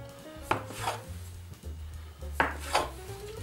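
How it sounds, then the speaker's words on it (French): Knife cutting brioche dough into nine pieces on a board, a few close, firm knocks and scraping strokes spaced unevenly over a few seconds, with faint kitchen hum underneath. "Je vais la couper, je pense, je vais la couper en 9 morceaux."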